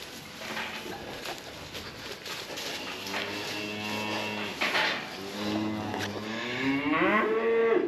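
Dexter cattle separated from the herd moo repeatedly, several long drawn-out calls rising and overlapping nearby against a steady outdoor background.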